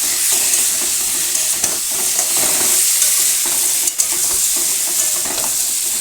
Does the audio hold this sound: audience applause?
no